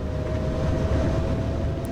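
Heavy train running on the Rhein-Ruhr main line in Train Sim World, a steady low rumble of wheels and engine with a faint constant tone, close and continuous with no speech.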